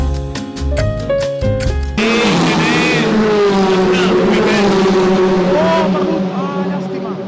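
Race cars circling the Barcelona circuit during a 24-hour endurance race, engines droning loudly and continuously with rising and falling pitch as they pass, with chatter and crowd noise mixed in.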